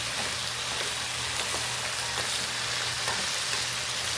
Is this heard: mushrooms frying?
yes